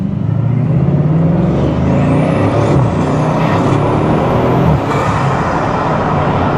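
The carbon-bodied Bugatti Divo's W16 engine pulls hard under acceleration, a loud, continuous roar with rising whine sweeping upward across several gear shifts, heard from inside the car without talk.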